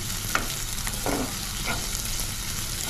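Green chilies and onion pieces frying in oil in a pan for paneer fried rice, a continuous close sizzle with a few soft scraping stirs, no voices.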